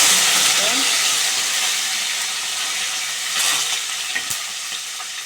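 Curry leaves and mustard seeds fry in oil on a slow flame for bitter gourd gojju, a steady close hiss and sizzle with faint stirring and a few small pops.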